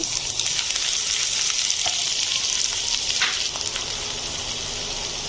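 Chopped ginger dropped into hot oil with dried red chillies already blackened, producing a loud, bright, continuous sizzle with occasional spatters and stirring.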